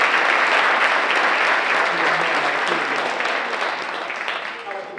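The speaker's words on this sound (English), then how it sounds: "if we can give a round of applause to the parents" An audience at a youth film festival gives a round of applause for the parents. The clapping is loud and broad at first, then thins slightly toward the end, and a voice briefly shows through near the close.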